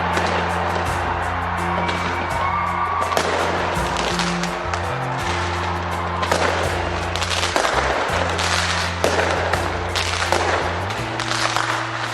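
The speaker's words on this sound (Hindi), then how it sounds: "काउंटडाउन के बाद आतिशबाजी होते ही नए साल का जोरदार तरीके से स्वागत किया गया।" New Year's fireworks in New Zealand crackle and pop continuously amid a loud, dense wash of noise, with the bursts running together throughout.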